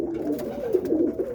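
Pigeons coo softly inside a loft housing Roller birds, a cock bird among them, with low rolling calls repeating close by and steady over a faint background hum.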